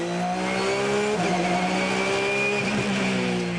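Several race cars roar steadily during a 12-hour endurance race at Hampton Downs, engines droning at high revs with pitch shifts as they pass and change gear, a continuous loud motorsport din.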